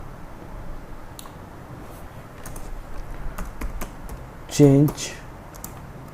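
Keys clatter on a computer keyboard while code is typed for a PHP CodeIgniter ecommerce project, irregular clusters of crisp clicks against a quiet background, with a brief spoken word partway through.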